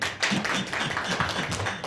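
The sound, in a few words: congregation clapping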